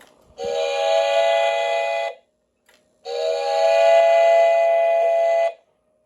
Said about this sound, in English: So let's hear that whistle.